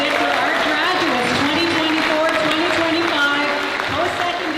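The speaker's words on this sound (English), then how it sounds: "another round of applause" A graduation crowd gives sustained applause and cheering for post-secondary graduates at a Wiikwemkoong ceremony, a steady wash of clapping with a voice speaking over it.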